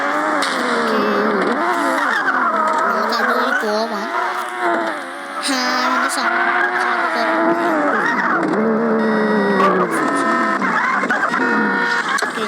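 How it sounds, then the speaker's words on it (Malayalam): A stolen car's engine revs and drives in the Payback 2 video game, its pitch rising and falling steadily and loudly under someone talking over the gameplay. "കാറ്"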